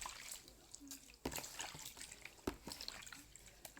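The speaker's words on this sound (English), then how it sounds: "You can see that I'm rinsing my hands." Water runs and splashes faintly as hands are rinsed under a tap, a soft irregular trickle with small spatters and brief louder splashes, no talk.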